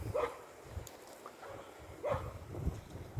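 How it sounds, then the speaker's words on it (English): Dogs out on a walk near an abandoned hotel bark a few times in short yips, distant and faint over outdoor wind and ambient noise. "There's somebody walking their dogs down there"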